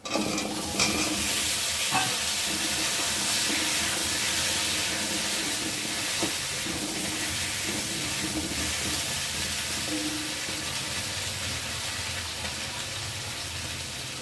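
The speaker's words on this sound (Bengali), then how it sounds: "আর এই যে কচুগুলো কেটে নিয়েছি, এখন তেলের মধ্যে দিয়ে দেবো।" Cut taro pieces fry in hot oil with a loud, continuous sizzle and hiss, broken by occasional stirring clinks, for about fourteen seconds.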